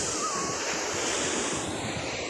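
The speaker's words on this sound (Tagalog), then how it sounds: "Dito po kami sa dagat." Sea waves wash steadily onto a beach with a constant broadband roar and a touch of wind, heard alone and close with no clear breaks.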